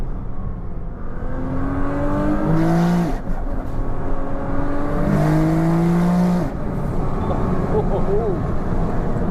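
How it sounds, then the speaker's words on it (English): A 2000-horsepower Nissan GT-R in manual mode roars through loud, rising revs that climb in two big sweeps, drop sharply and then settle, with voices heard over the engine. "this car sounds so violent"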